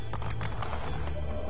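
A horse in the Assassin's Creed 3 video game gallops with a quick run of hoof clip-clops under a steady background hum, continuous and fairly close.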